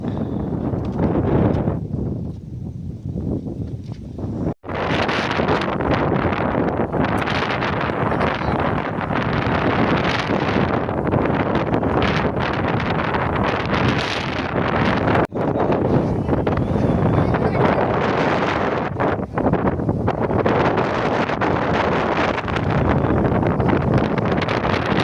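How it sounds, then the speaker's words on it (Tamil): Strong wind gusts steadily outdoors in the Manjolai hills, a loud broadband roar buffeting the microphone for the whole stretch, with no speech. "பயங்கர கூலாக இருக்குது, காற்று அடிக்கிறது."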